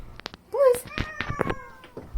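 Two cats scream at each other, with short sharp yowls leading into longer, rising and falling wails that overlap loudly and close by.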